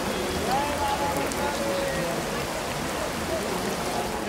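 Rain falling on the mountain trail of the Amarnath Yatra, a steady dense patter on surfaces throughout, with a faint distant voice under it.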